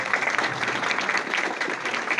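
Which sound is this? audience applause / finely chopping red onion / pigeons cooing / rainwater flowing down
audience applause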